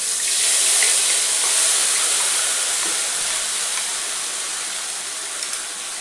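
Water runs steadily from a tap while a grinder jar is washed, a loud, even hiss that eases slightly toward the end.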